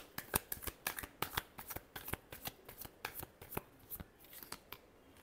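Tarot cards being shuffled for a reading, a quick run of crisp riffling flicks and slaps in uneven bursts, close and fairly quiet, with no talk.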